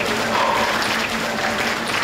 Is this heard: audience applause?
yes